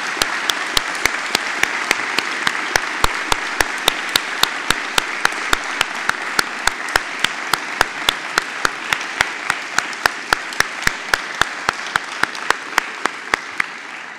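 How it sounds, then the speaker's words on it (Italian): Sustained audience applause at an Executive MBA graduation ceremony, a dense even clapping wash lasting many seconds, accompanied by a steady series of sharp regular clicks. "Quindi forse un applauso a loro"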